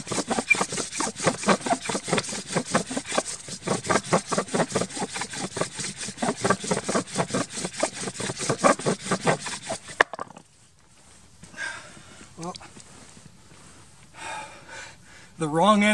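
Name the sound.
bow drill spinning in wooden socket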